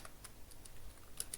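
Keys tapped on a computer keyboard while typing in InPage, a handful of quiet, irregular clicks close by with no talk.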